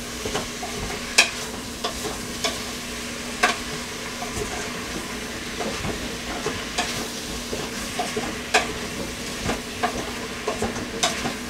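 Seasoned meat searing in a pan, a steady broadband sizzle running throughout with occasional sharper crackles and pops, fairly close and alone without talk.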